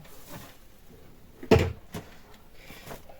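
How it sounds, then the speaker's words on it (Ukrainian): Someone rummages through a kitchen drawer, making a single fairly loud knock or bump of wood in the middle with a few faint shuffles around it, close and without talk. "Вже вигребла усю шухлядку."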